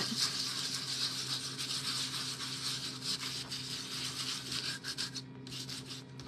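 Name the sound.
small sander sanding a painted bunny figure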